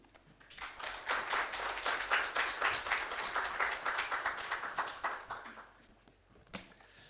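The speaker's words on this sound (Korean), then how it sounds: "여러분 박수로 목사님을 맞이하도록 하겠습니다" Audience clapping at a church service welcoming a pastor to preach, individual claps distinct in a lively patter that swells, then fades out with a last stray clap.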